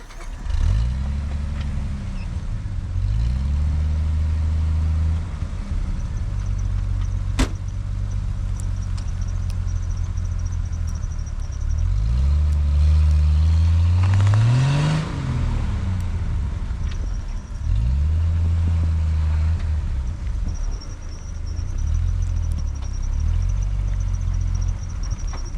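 A vehicle stuck in wet snow, its engine revving repeatedly in long rising and falling surges with one sharp high peak midway, loud and close, while the tires spin and whine in between the surges.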